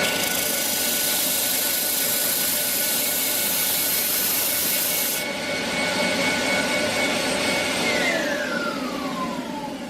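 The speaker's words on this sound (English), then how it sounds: "So you can switch your dust extractor on." Dust extractor roaring steadily alongside a wood lathe fitted with a disc sander attachment, loud broadband whoosh throughout; a high whine cuts out midway and a descending tone follows as something spins down.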